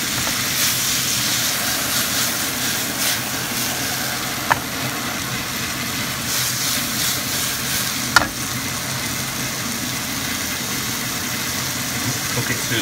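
Foraged wild mushrooms, porcini and winter chanterelle, frying in a pan outdoors with a steady, close crackling sizzle, occasional louder pops and a faint low hum underneath.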